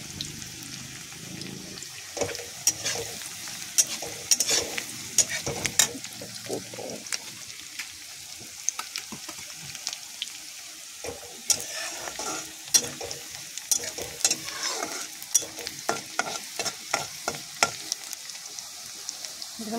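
Onions fry in a pan while being stirred, giving a continuous sizzle broken by repeated scraping and clinking stirs, close by with no talking.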